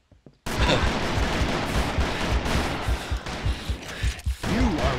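Gunshots in the western video game Call of Juarez: Bound in Blood, a loud sustained volley of rapid shots with heavy booms, close and continuous.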